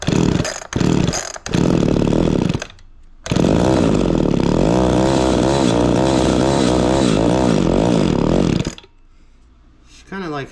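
An Echo 280e chainsaw is pull-started and revved, its engine snarling loudly and close with uneven throttle bursts, sputtering and dropping back toward idle near the end.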